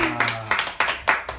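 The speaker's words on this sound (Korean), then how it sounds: "여러분 우리 박수 한번 다 같이 한번 시작해" Live-stream group clapping in unison after a call to clap along: a handful of sharp, evenly spaced claps, close and fairly loud, each cluster a few tenths of a second apart, with a low hum trailing at the start.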